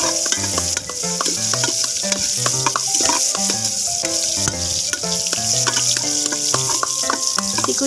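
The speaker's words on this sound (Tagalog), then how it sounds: "Ngayon ay isunod naman natin ilagay ang bawang at sibuyas." Garlic and onion sauté in hot oil and margarine, a steady loud sizzle with repeated stirring clatter and utensil scrapes throughout, no voices.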